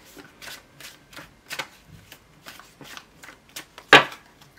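Tarot cards are shuffled close by in a quick series of soft riffling flicks, ending with one sharp, louder snap.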